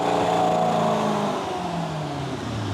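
An LS V8 engine swapped into a widebody Porsche 911 runs on a dyno, its exhaust roaring loud and close and then winding down as the pitch drops in a smooth falling sweep.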